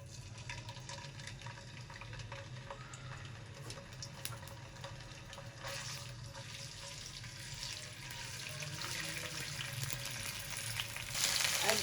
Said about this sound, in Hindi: अदरक लहसुन को 1 मिनट हो गए हमें फ्राई करते हुए